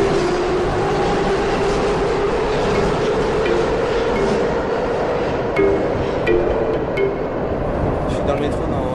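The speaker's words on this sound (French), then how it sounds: "Dans le métro dans la ligne 3" A Budapest Metro Line 3 train rumbles steadily along with a constant low roar, some faint clattering and squeaks, and voices murmuring nearby.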